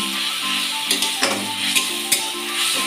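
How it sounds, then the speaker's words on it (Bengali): Spice paste for a fish curry (macher jhal) sizzles steadily in a pan, with several sharp stirring scrapes of a spatula cutting through the close, continuous frying hiss. "মাছটা আমার ভাজা হয়ে গেছে আর এখানে মশলাটা করা হচ্ছে"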